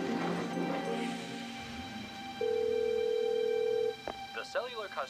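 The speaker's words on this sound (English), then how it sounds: "Come on, answer the phone." A telephone rings unanswered on the line, with a single long, steady tone lasting about a second and a half. Voices talk before it, and a brief voice follows after it.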